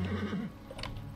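Horse in Assassin's Creed Origins gives one short, close neigh with a wavering whinny, then falls quieter over a faint game backdrop.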